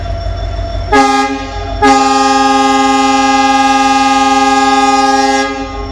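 The Rajdhani Express sounds its horn nearby, a short blast followed by a long, loud, steady blast lasting several seconds, with the rumble of the moving train underneath.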